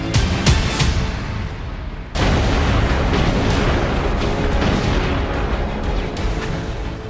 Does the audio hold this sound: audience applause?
no